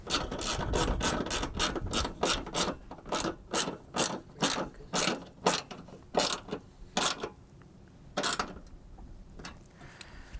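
A hand ratchet tightens headlight mounting bolts on a car during an HID headlight ballast job. Rapid, loud metallic clicks come in bursts of pawl ratchets, slowing into separate spaced strokes and ending in a few isolated clicks.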